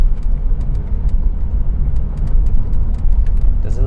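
A Porsche 911 Turbo S engine accelerating hard on the road, a loud continuous low roar with rising rumble heard from inside the car, no voices.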